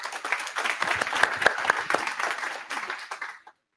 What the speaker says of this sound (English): So everyone give Hans a round of applause.